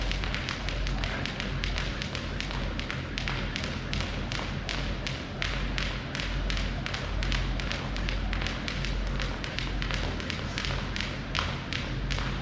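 A jump rope slaps the floor in a fast, steady rhythm of taps and light thuds during a warm-up workout, continuous and evenly paced throughout.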